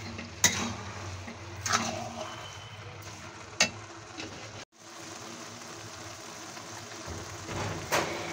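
A spoon stirs carrot halwa with sugar in a pan, giving soft scraping and occasional sharp clinks against the metal over a quiet kitchen background, with no one talking.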